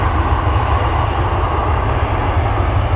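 Steady, loud jet engine roar from a CRJ 900 airliner at Amsterdam Schiphol Airport, a continuous low rumble with broadband hiss holding level for the full three seconds with no voices.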